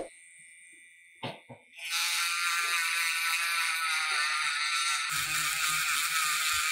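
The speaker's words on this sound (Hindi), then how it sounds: "यहाँ पर मैं इस्तेमाल करूँगा आईसी ग्राइंडर का, जिससे कि हमारी शील्ड बिना हीटिंग के निकला है" An IC grinder cuts a shield off a mobile phone motherboard, a thin high-pitched whine that spins up after a few faint clicks and then holds steady and close, changing tone slightly near the end.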